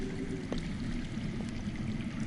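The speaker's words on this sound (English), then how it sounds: "That's water. I hear water. From underground." Underground water flowing in the Game of Thrones Telltale video game, a steady, soft rushing and pouring sound that continues evenly throughout without talk.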